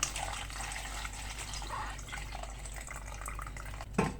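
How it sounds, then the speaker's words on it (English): Clean water runs and splashes into a bowl of bitter leaves being washed, a continuous close trickle ending in a sharper splash, with no speech. "So adding my clean water in it."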